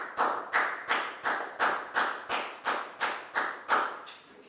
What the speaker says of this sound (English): a big round of applause for Down